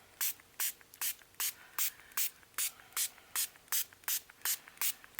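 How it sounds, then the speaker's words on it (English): Repeated short hissing sprays of water from a trigger bottle, about a dozen quick even bursts in a steady rhythm, close and fairly loud. "let's spray some water on it"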